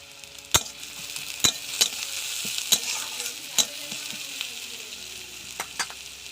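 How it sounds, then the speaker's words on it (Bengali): Panch phoron whole spices dropped into hot oil in a pan, a steady close sizzle with sharp crackling pops and stirring scrapes recurring every second or so, no talking. "পাঁচ ফোড়ন দিয়ে দিচ্ছি,"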